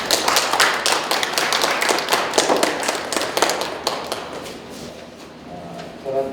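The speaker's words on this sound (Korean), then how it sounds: "박수로 맞아주세요" Scattered applause at a research seminar, a room of people clapping in uneven bursts of sharp claps that fade out, followed by a voice starting to speak.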